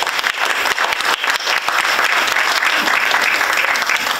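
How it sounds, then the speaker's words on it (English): An audience at a lunch event in a Savannah, Georgia hotel applauds, loud, dense and sustained clapping from many hands throughout. "You can clap right there."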